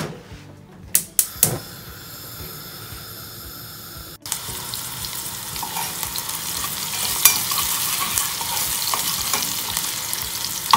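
Onion sizzling in hot oil in a home kitchen pan, a few sharp clatters early on, then a steady, fairly loud broadband frying hiss with occasional crackles that continues to the end, with no talking.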